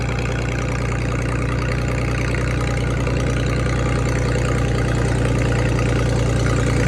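A Hydra-Mac 8c skid steer with a straight pipe exhaust idles steadily up close, its loud, even low rumble continuous and unchanging throughout, with no talking.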